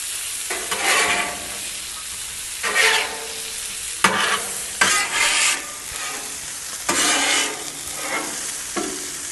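Pork chops sizzling on a Blackstone griddle while being basted, a steady hiss broken by bursts of louder crackling and spatter, with no talking.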